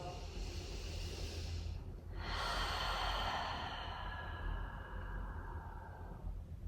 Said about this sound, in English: Really elongating that exhale and letting it all go.